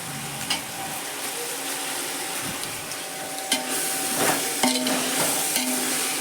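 Onion frying in a pan for chicken biryani, a continuous close sizzle with occasional scrapes and clicks as it is stirred.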